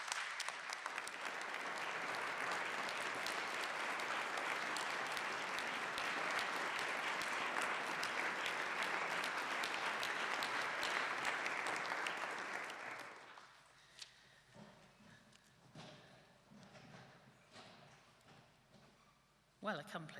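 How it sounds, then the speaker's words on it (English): Graduates at a Bath Spa University School of Education ceremony applaud their supporters, a dense, sustained roar of clapping from a large hall that stops abruptly after about thirteen seconds, leaving scattered claps and low room noise. "could you stand up, turn to face your supporters and give them a big round of applause"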